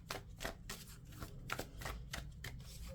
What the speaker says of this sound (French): L'oracle Lenormand. On va aussi poser 9 cartes.